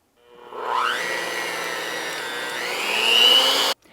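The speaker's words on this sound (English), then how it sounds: "you want to keep your beaters going" Electric beaters whipping egg whites with cream of tartar and a pinch of salt: a loud motor whine rises quickly, holds a steady buzzing pitch, climbs slightly, then cuts off abruptly.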